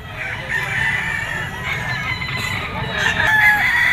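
Roosters and other fowl call with crowing and clucking at a crowded outdoor pet market, among them a yellow-legged sweater stag, loud and continuous with layered bird voices throughout.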